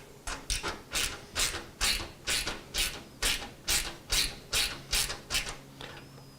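A ratchet with a 5mm socket turning during an ATX mid-tower PC case build gives a steady run of about fourteen close, crisp ratcheting bursts, evenly spaced, with no talking.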